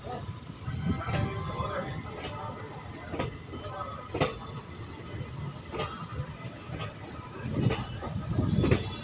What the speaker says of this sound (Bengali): আর ওই দিক থেকে ঢুকছে মালদা টাউন স্টেশন থেকে SMBP বেঙ্গালুরু অমৃত ভারত এক্সপ্রেস।